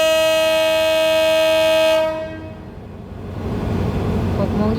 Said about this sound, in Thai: ปล่อยขบวนรถชานเมืองที่ 313